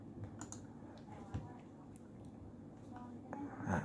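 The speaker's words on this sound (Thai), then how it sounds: "พิมพ์ลิงก์นี้เลยนะครับ w w w g o o g l e c o m นะครับ" Keys tap out a web address on a computer keyboard in quick, light bursts, faint and close, while someone talks over the typing.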